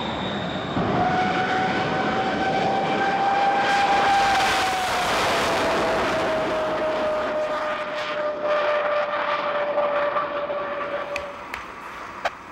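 A fast jet aircraft roars past loudly and steadily, its engine tone sliding gradually downward as it passes, with no voices over it.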